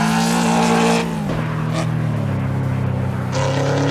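Ford Mustang GT in Assetto Corsa driving at night, a loud V8 note that drops sharply on a gear change and then climbs again as it pulls through the revs.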